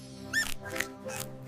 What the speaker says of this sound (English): It's a mouse.